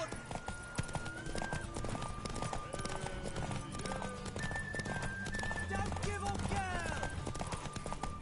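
Hooves clip-clop on a horse in The Witcher 3 video game, with brief neighs over a dense bed of music and game effects and some voices talking throughout.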